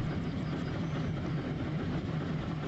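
A locomotive in Trainz Simulator 2010 rumbles along as a steady, low, continuous engine and rail drone, moderately loud and unbroken throughout, with no talking.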